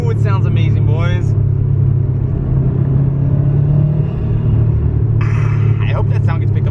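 A car with a newly installed intake: a loud, steady low engine rumble that fills the whole stretch, with voices speaking briefly at the start and near the end.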